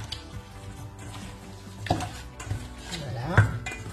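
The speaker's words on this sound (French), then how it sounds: "on va prendre les mains bien propres pour bien mélanger" Chicken being mixed by hand with salt, pepper and garam masala for a colombo curry, giving soft squelching and stirring sounds with a few sharper clicks near the end, heard up close in a quiet kitchen.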